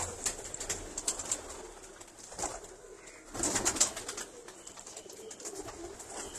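Jugnu and Red Bull breed pigeons cooing in a loft, soft repeated throaty coos from several birds close by, with a few brief wing flutters and light shuffling.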